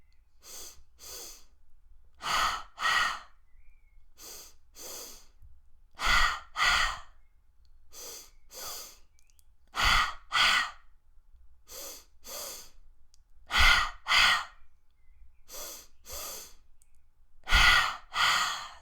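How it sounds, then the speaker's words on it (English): Slow, gentle breaths drawn from the belly during a guided breathing exercise, a series of soft, distinct inhales and exhales evenly spaced and up close against near silence. "A nice, easy, gentle breath starting in the belly."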